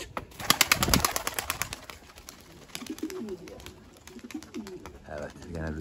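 Three-year-old homing pigeons coo in a loft, and their soft, repeated throaty calls grow clearer toward the end, after a burst of wing flapping and scuffling at the start. Someone talks over them.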